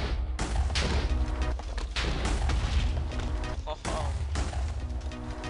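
Dubstep gun firing in a Minecraft mod, a dense stream of blasts, booms and crashing impacts layered over steady bass-heavy music, with a brief exclamation from a voice.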